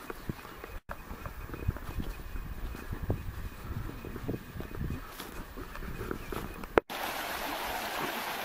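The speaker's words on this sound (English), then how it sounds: "Can you hear a creek running next to me?" Small creek beside a hiking trail, a steady low rush and trickle of running water close by, mixed with wind and faint footsteps on the path.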